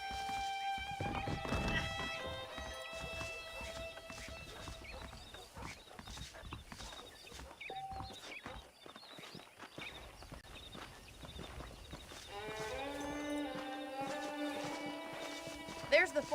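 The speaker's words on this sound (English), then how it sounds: "The horses are saddled up over here." Horses walk with steady, rhythmic clip-clop hoofbeats in the game Red Dead Redemption, moderately near and continuous, with a brief whinny and someone talking over them.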